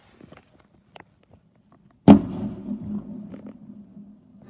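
A single sharp firework bang on bonfire night cracks out near the listener, followed by a rumbling echo and crackle fading over a couple of seconds, with faint scattered pops before it.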